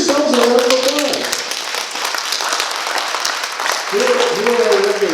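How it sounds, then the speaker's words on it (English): An audience at a town-hall gathering applauds steadily and loudly throughout, with a speaker's voice over the clapping at the start and again at the end. "Give yourselves a round of applause."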